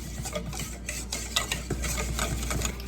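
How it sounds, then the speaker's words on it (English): A whisk scrapes and stirs through thickening dairy-free sausage gravy in a pan, a continuous rhythmic clatter of metal on the pan with a faint sizzle underneath, close and steady throughout. "We're just gonna whisk this until it is thick"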